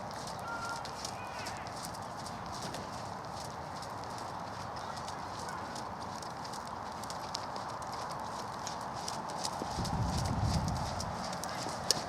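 Hooves of a young warmblood dressage horse cantering, a soft repeated clip-clop rhythm at a steady pace, mid-distance, with people talking over it.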